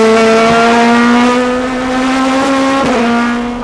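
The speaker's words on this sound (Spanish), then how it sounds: "Ahí suena el motor de Honda número 37 del puntero del campeonato." Honda number 37 TC2000 race car engine at Viedma, a loud, steady high-revving drone held close for several seconds with a slight pitch dip midway, no voices.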